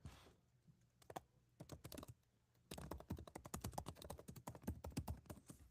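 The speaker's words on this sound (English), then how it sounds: "Can you hear me typing?" Fingers tap on a computer keyboard nearby, first a few scattered keystrokes in a quiet room, then a dense run of rapid typing.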